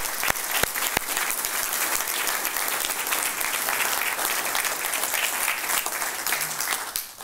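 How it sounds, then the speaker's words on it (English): A supply chain summit audience breaks into a full, steady round of applause, thick and continuous for several seconds before tapering off at the end. "give a big round of applause for their support for this event today"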